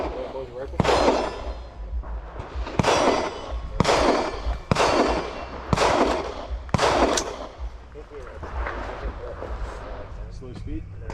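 Sharp, loud gunshots at an outdoor shooting drill, several spaced rifle shots followed by pistol shots during a rifle-to-pistol transition, each crack echoing over a steady background with faint voices.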